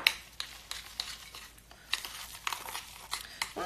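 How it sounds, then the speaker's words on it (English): Quiet, close scraping and soft thuds as chocolate flecks are stirred into shortbread cookie dough in a bowl, in short irregular strokes with no voices. "Just stir it in."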